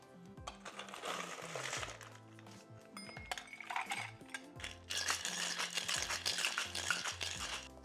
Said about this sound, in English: Let's shake this up with some ice.